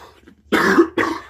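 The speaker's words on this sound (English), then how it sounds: "excuse me again, guys, like just coughing out on your face" A person gives two sharp, close coughs in quick succession, loud and isolated against a quiet background.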